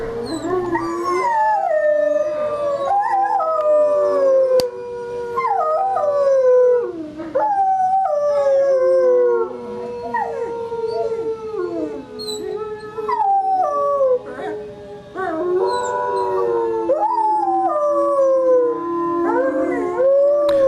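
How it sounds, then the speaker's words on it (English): Shadow, a wolf in a wolf yard, gives a deep-throated howl, joined by other overlapping howls and yips in a continuous, sliding chorus that carries loudly for the full stretch without a break. "That deep-throated howl you hear is Shadow."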